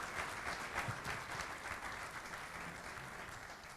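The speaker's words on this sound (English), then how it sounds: "let's give him a round of applause" A round of applause at a community mixer, many hands clapping together in a steady, even roar that holds for several seconds and tapers slightly toward the end, fairly faint and distant.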